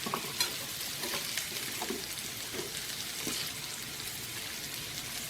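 Stuffed pork chops sear in a pan with a steady crackling sizzle and scattered spitting pops, moderately close and continuous throughout, with no voices.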